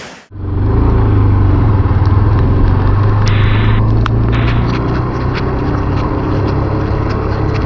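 A car travels on the NH-309 highway near Ramnagar, Uttarakhand, in heavy Sunday rain, with a loud, steady road and engine rumble and broadband hiss of water spray after a brief start.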